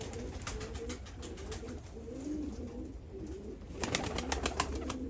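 Pigeons coo softly in repeated low rolling phrases, with a faint busier patch of rustling and calls toward the end.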